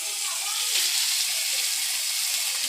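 A paste of ginger, garlic and turmeric fries in a pan for a chicken curry, making a loud, steady, bright hiss that runs unbroken throughout, close up.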